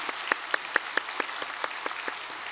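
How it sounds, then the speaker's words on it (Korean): A small church congregation at a Korean Sunday service claps in slow, scattered unison, each distinct clap ringing out at a steady beat in a reverberant hall. "박수 한번 하겠습니다"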